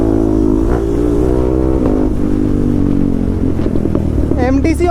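A KTM Duke 390 motorcycle engine idles and then revs up in rising pulls ahead of a wheelie, heard up close while someone talks over it.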